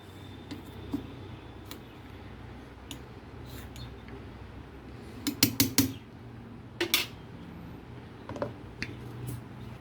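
A spoon stirs a dry groundnut podi mixture in a pan, with faint scraping and a few sharp metallic clinks clustered near the middle against a quiet background.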